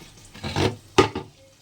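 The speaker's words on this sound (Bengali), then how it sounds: "আলুটা ভাজা হোক" Potatoes frying in a pan in a home kitchen give off short bursts of sizzling, two main crackling surges close by, with quiet gaps between them.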